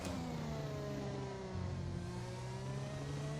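F1 2021 racing car engine accelerating hard on throttle, a steady loud high-pitched whine with rising harmonic tones, continuous and close with no talk over it.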